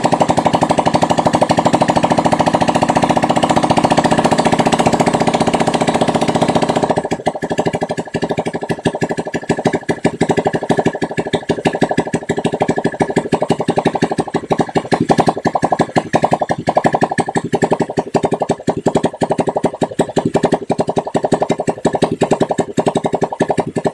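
Honda Scoopy FI fuel-injected scooter engine, prone to stalling and sputtering after frequent injector cleaner use, running steadily then shifting to a choppy, pulsing rev at close range, loud and continuous with no talk.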